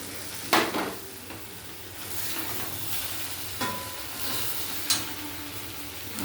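Onion and green chilli fry in a pan with turmeric, cumin, coriander and chilli powder, sizzling steadily under a few sharp scrapes and knocks of a stirring spoon against the pan.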